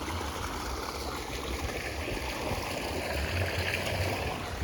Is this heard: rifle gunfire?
no